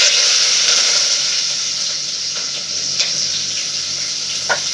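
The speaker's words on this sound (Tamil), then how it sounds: "சின்ன வெங்காயம் கொஞ்சம் அப்படின்னு போட்டுக்கிறேன்." Small onions dropped into hot oil, with curry leaves, frying for a fish curry; a loud, close, steady sizzle with occasional pops and stirring clicks, no voices.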